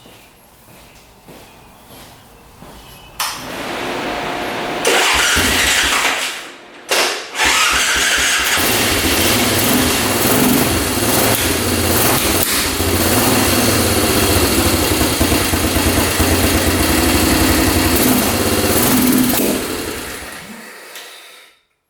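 An ATV engine fitted with a 120 main jet cranks, starts and runs, revving loud and close with uneven surges before cutting out at the end.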